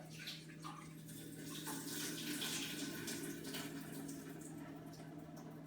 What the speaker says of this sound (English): now we're just going to drain that water off